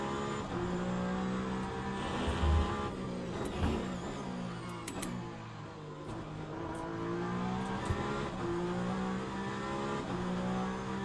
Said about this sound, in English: The V6 sounds really clean.